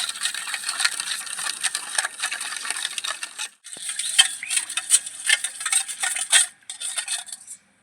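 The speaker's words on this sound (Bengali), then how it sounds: "আরেকটু গুলা বাকি আছে ভালো করে মিশিয়ে নেবো" Lemon juice, sugar and salt are stirred together in a little water, giving a steady, brisk rattling swirl with brief pauses partway through and near the end.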